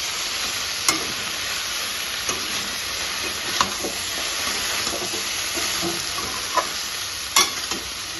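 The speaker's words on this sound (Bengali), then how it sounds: "চচ্ছিটা ভাজা ভাজা হয়ে গেছে এবার এর মধ্যে সর্ষে পোস্তটা দিয়ে দেবো" Vegetable stalk charchari fries in a wok with a constant hissing sizzle, broken by intermittent metallic scrapes and knocks as it is stirred, with no voices.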